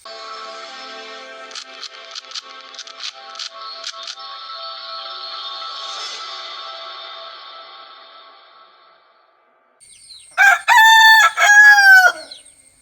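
Chickens kept in covered coops, with a rooster crowing loudly and close several times near the end over a steady background hum, after scattered short clucks earlier on.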